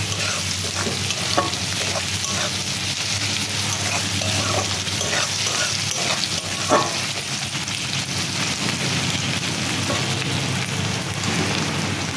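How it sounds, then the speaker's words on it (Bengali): Garlic frying with onions in a pan sizzles steadily and loudly throughout, with occasional stirring scrapes and clinks breaking through the constant hiss. "প্রথমে দেব রসুন, যাতে পেঁয়াজের সাথে হালকা করে ভাজা হয়ে যায়।"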